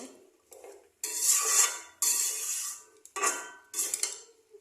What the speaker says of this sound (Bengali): এটাকে একটু কষাই নেব।